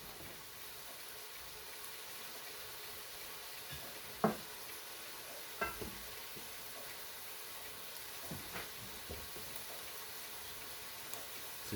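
Onions caramelizing in a pan give a soft, steady low sizzle, faint and close, with a few small pops and clicks scattered through.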